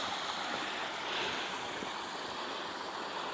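Horton Creek near Payson, Arizona rushes fast over its bed just before vanishing underground, a steady, full broadband wash of running water close by with faint wind.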